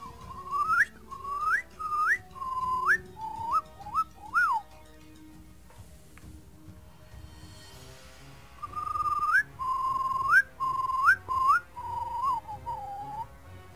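Human whistling in imitation of a bird: repeated short rising and falling chirps in two bursts separated by a quiet gap, clear and close with no talk.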